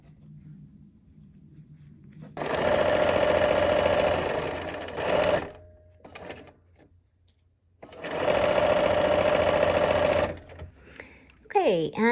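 A sewing machine stitches the final row of a quilt block in two long, steady bursts of fast rhythmic whirring, separated by a pause with faint handling noises, and a voice speaks briefly at the end.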